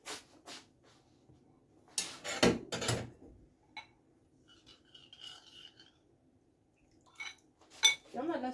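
A fork or spoon is fetched with a few sharp metallic clinks and rattles of cutlery in short bursts, separated by quiet gaps with faint handling sounds.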